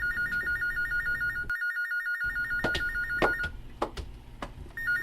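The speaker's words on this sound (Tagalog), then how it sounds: "iniring ang telepono" An electronic telephone ring trills repeatedly with a brief gap, joined by a few sharp clicks and knocks near the end.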